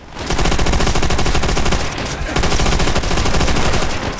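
Dense, continuous automatic gunfire in Call of Duty: World at War, loud and close, firing in rapid unbroken bursts for several seconds with only a brief dip midway.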